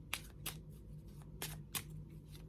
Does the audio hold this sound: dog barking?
no